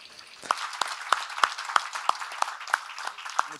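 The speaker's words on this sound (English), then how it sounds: "I want to ask for a round of applause for all the human rights defenders." Scattered applause at a panel event on Colombian human rights defenders, a sparse handful of distinct, evenly spaced claps rather than a full ovation, fairly faint in a quiet room.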